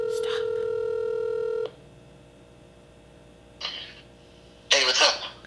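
Telephone dialing tones ring out as a call is placed, a steady tone for over a second followed by quieter hum, then brief bursts of voice and noise near the end.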